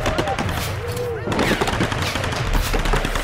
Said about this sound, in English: Stop shooting me! Please stop shooting me!